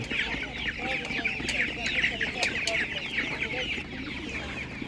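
Leghorn hens cluck steadily at a busy animal market, with layered bird calls from several fowl close by and a low murmur of activity underneath.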